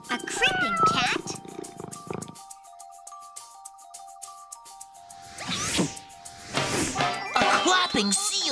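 A cat meows near the start, then a long soft stretch with a thin electronic tone, followed by rustling and more cat sounds, with voices around.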